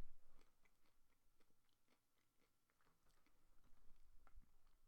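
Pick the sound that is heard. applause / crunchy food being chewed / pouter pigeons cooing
crunchy food being chewed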